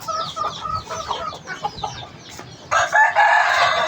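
A rooster and hen loose outdoors cluck repeatedly, and near the end a loud rooster crow rings out close by.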